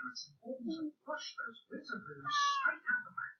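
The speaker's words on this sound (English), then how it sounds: "That's my cat." A pet cat meows once, a drawn-out call rising briefly over steady talking near the end.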